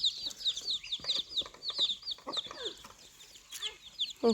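Several free-ranging chickens cluck continuously near a rice field farm where ducks and chickens are kept, with busy overlapping clucks and occasional louder squawks, close and clear with no talking.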